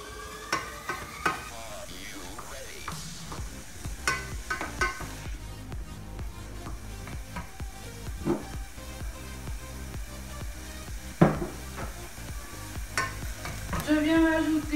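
Onions cooking in a saucepan on heat setting 9 for a chicken thigh dish, a sizzle broken by frequent spoon scrapes and knocks against the pan, close and uneven.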